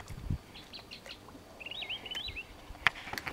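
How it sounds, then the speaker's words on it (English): Distant songbird singing a musical, warbling phrase outdoors on a quiet morning on the water, with a sharper call breaking in near the end over faint background ambience. "Got a bird off in the distance that is just incredibly musical this morning."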